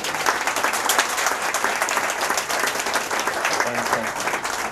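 Steady applause from a seated audience at an evening nature talk on martial eagles, a dense even patter of many hands clapping throughout with a faint murmur underneath.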